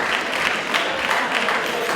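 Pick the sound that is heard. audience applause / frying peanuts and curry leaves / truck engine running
audience applause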